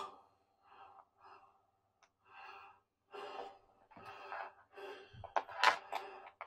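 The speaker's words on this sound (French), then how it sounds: "oh, je suis tout de suite essoufflé, c'est infernal." A man gasps and breathes heavily, out of breath, in a series of ragged breaths and sighs that grow louder and closer toward the end, with no clear speech.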